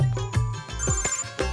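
A phone rings in a household scene, loud and close, with repeated ringtone bursts over about a second and a half and no talk during the ringing.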